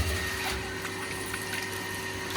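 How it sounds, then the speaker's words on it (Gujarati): A large electric water motor pumps water outdoors, making a steady hum with a rushing, splashing flow that holds at an even level throughout. "બસ જો પાણી હવે જો મોટર કેટલું પાણી ફેંકે છે બતાવી દો તમને."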